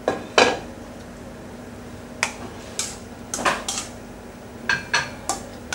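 Lamb navarin pieces and mirepoix vegetables being passed through a metal colander in a kitchen, giving scattered clinks and scrapes of metal and utensils, a few sharp knocks spaced irregularly, no voices.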